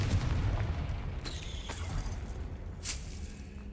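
A Confringo spell explodes in Hogwarts Legacy, giving a low boom at the start followed by a crackling, fading tail and a couple of brighter bursts later, fairly quiet overall.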